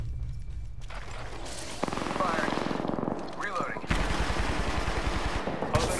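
Gunfire in the shooter game Apex Legends: several bursts of rapid automatic shots, loud and crackling, separated by brief quieter gaps, with game noise throughout.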